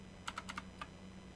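Clicking on a computer during a music night, five crisp, close clicks in a quick uneven burst, four together then one after a short pause, over a quiet background hum.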